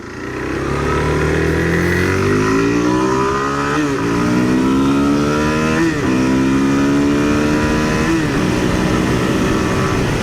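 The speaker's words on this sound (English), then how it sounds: "I'm in 4th gear doing 70 miles an hour. 5th gear pulls nice." A 2025 Suzuki DRZ4SM motorcycle engine pulling hard on a ride, rising revs climbing through several gear changes, loud and close with wind rush, no talk.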